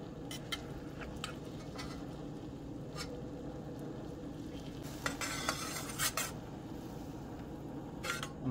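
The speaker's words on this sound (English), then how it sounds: "I'll remove my bay leaf and whisk that little piece of butter into it" Butter is whisked into a red wine reduction in a pan, a faint low simmering hiss broken by light clicks and a few brisk scraping strokes of the whisk, with no talking.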